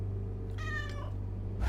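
A single short cat meow from the Don't Mess With Bober video game sounds over a steady low hum, mid-level and clear, with no talking.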